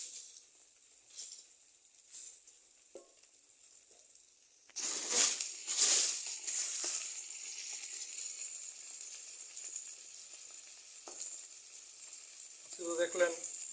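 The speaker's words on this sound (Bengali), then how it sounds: "এখন সুন্দর মতো সরিষার তেলে ভাজা হচ্ছে।" Marinated fish hits hot mustard oil in a village-style kitchen, and a loud, steady hiss of frying bursts in and carries on evenly, with a few soft clinks and stirring scrapes. Fish is being fried for a mashed fish dish.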